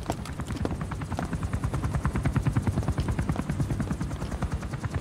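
A military helicopter in the video game Metal Gear Solid V: The Phantom Pain thumps with fast, steady rotor beats, loud and close throughout, a continuous rhythmic chop with no talk over it.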